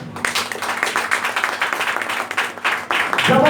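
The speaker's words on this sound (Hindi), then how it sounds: "इसके लिए एक बार जोरदार ताली" A seated audience at a marketing company's product talk claps loudly and close in a dense, energetic burst that builds and stays strong for a few seconds.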